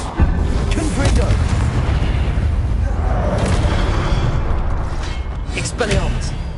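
A Confringo blasting spell detonates in Hogwarts Legacy, heard as a dense, continuous roar of booming blasts that stays loud throughout.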